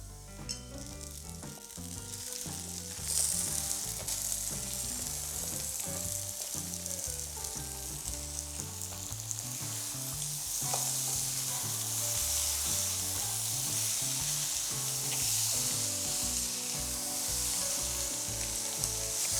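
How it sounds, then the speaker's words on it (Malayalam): Cooked chicken stir-fries with curry leaves in a hot pan, a steady close sizzle and crackle with scraping stirring strokes throughout, and no talking. "ഈ കുക്ക് ചെയ്തേക്കുന്ന ഇറച്ചി ഇതിനകത്തേക്ക് ഇട്ട് നന്നായിട്ട് ഒന്ന് ഒലത്തിയെടുക്കാം"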